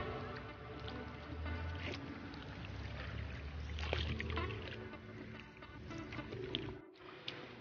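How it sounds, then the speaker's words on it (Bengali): A kayak is paddled on the water at Kaptai as rain begins, giving a faint, steady wash of water sloshing with soft paddle splashes close by. "আমরা এখন কায়াকিং করতেছি"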